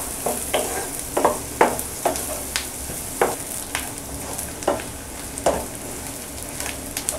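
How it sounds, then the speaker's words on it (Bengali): Onions frying in a pan for Bengali egg curry, a soft steady sizzle broken by repeated scraping stirs of a spoon every half second or so, close and fairly quiet with no talk. "পেঁয়াজটা দিয়ে দিলাম পেঁয়াজটা একবারে আমি লাল কালার করে ভেজে নিব না শুধু একটু নরম করে নিব"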